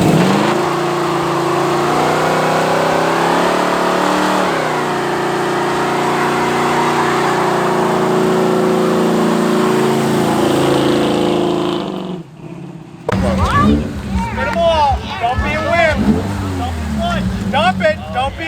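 A car burning out its tires after a car show, with a loud sustained engine roar and tire noise for about twelve seconds, then a sudden cut to people talking and shouting over a quieter idle.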